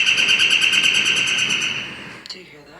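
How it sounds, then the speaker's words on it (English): A bird calls outside with a loud, steady, repeated whooping cry likened to a howling monkey, a pulsing high tone that runs continuously for about two seconds before cutting off into quieter background noise. "There's a bird outside that sounds like a howling monkey."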